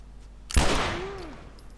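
A single sharp, loud gunshot in The Last of Us rings out after a quiet lead-in, trailing off in a long decaying echo with a faint tone sweeping beneath it.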